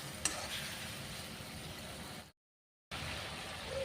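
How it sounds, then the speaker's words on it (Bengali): Flat beans stir-fried with spice paste in a pan for a tangra fish curry, giving a steady low sizzle and scraping that runs evenly, broken by a short silent gap before resuming. "এবারে শিমগুলোও দিয়ে দিলাম, দিয়ে মশলাটার সঙ্গে একটু ভালো করে কষিয়ে নেব"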